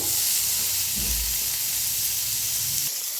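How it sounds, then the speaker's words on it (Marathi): Onion and tomato roasting in a hot pan give off a steady, loud sizzle and hiss throughout, with a brief low thump partway through and no talking. "आता ह्याच्यातच घ्यायचा आहे कांदा भाजून, टमाटो बी"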